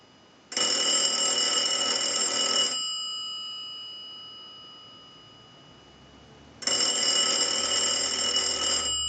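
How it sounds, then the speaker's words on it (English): A bright electric telephone bell rings in two long bursts separated by a pause of several seconds, loud and close with no talking. "We can send a ring cycle, so we'll start a ring cycle."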